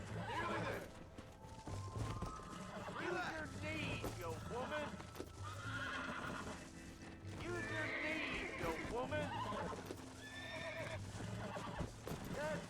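A horse in the Western video game Red Dead Redemption whinnies repeatedly and clip-clops along, with creaking tack, under frequent loud talk from a game character.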